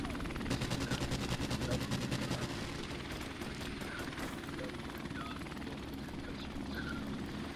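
A helicopter hovers in a multiplayer shooter video game, its rotor drone loud and continuous throughout, with bursts of rapid gunfire layered over it early on.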